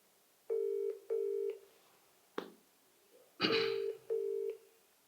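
A telephone line tones through a call: two ringback tones, a click, then a louder burst and two more tones, all clear and without voices.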